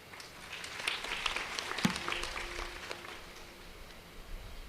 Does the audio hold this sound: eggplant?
no